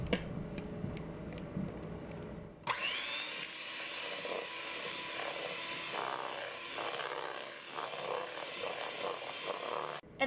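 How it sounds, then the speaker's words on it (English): An electric stand mixer churning pumpkin cookie dough starts abruptly and keeps up a loud, steady whirring drone with slight wobbles, close by and free of talk. "You can throw it all in at once, but my mixer is so high powered"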